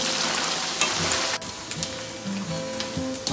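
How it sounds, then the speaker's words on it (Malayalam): Beef pieces for pickle fry in hot oil in a pan, giving a steady close crackling sizzle with scattered pops and a few faint clinks, without any talk. "ഞാൻ അച്ചാറിൻ്റെ ബീഫിനെ പൊരിക്കുന്നു"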